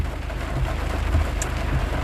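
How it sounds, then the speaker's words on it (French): Heavy rain falls steadily in a continuous dense wash, loud and close, with no voices over it. "Vous avez vu la pluie là?"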